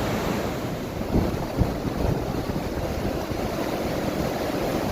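A clear mountain stream flows through Harshil Valley in Uttarakhand's Himalayas, a steady close rushing wash of water with occasional splashy bursts and no voices.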